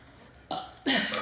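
Two burps from a person in a burping challenge: a short croak, then a louder, longer throaty belch right after, close and dry with no talking.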